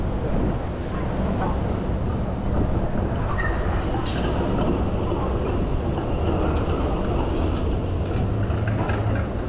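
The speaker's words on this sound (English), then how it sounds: "here we have our first D2 class tram, which are the big 5-section Siemens Combino on Route 19" A big five-section Siemens Combino D2 class tram on Melbourne's Route 19 rumbles steadily past amid dense street noise and wind buffeting, with faint metallic squeals above the continuous roar.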